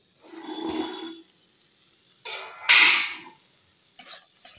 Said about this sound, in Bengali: শাকটা দিয়ে ভালোভাবে আমি নেড়ে নিচ্ছি